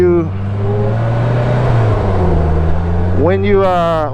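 A 2023 Slingshot SLR three-wheeled car's engine revs up and drops as it shifts gears like a manual, loud and close, with a voice speaking over it.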